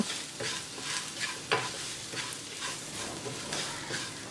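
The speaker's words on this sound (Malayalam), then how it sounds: "പൊടികളെല്ലാം ചേർത്തതിന് ശേഷം സ്റ്റവ് മീഡിയം ഫ്ലെയിമിൽ വെച്ച് നല്ലപോലെ വഴറ്റി കൊടുക്കാം." Ground spices sauté in a pan over a medium flame for a ridge gourd and prawn roast, with a soft, even sizzle broken by regular scraping stirs.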